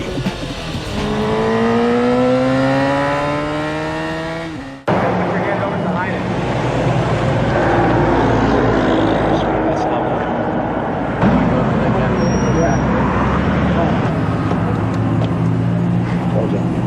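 A Repsol motorcycle revs unevenly as the rider works the throttle roughly, a loud close engine whose pitch climbs and surges, then gives way to a sustained rumbling roar with engine noise throughout.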